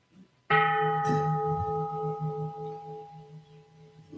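A single bell struck during a mindfulness ritual, one clear strike that rings out and sustains a long, steady, slowly fading tone, with a faint second touch shortly after.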